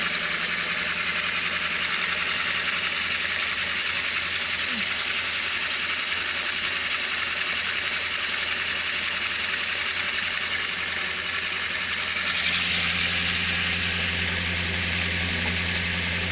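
A pink motor generator coupled through magnetic gears runs with both motors going, giving a steady mechanical hum and whir at moderate level that grows slightly louder near the end.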